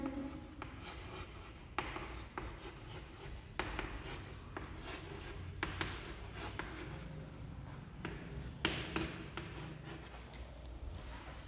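Pen scratching across paper in short strokes with brief pauses and occasional taps, quiet and close, repeating irregularly over several seconds with no speech.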